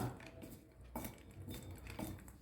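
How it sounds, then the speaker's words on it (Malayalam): A metal spoon clinks and scrapes against a pan while potato yam is stirred with turmeric and chili powder, a few quiet rhythmic strokes, soft and close, with no talking. "സ്വല്പം മഞ്ഞൾപ്പൊടിയും കൂടി ഇട്ട് കൊടുക്കാം. എന്നിട്ട് ഇത് നമുക്ക് ഒന്ന് ഇളക്കി യോജിപ്പിച്ച് വെക്കണം."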